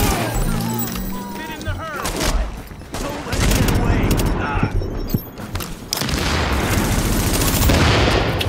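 A grenade blast amid heavy gunfire in The Division video game, a dense barrage of shots and booms with a voice talking over the loud, continuous combat.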